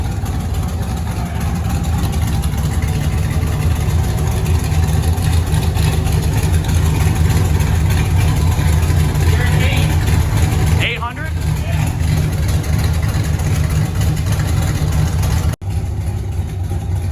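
A cammed C4 Corvette with straight pipes idles down toward idle RPM, a loud, steady, deep rumble with a lumpy pulse that runs continuously throughout, briefly broken by a faint higher sound near the middle.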